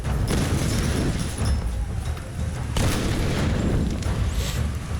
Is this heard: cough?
no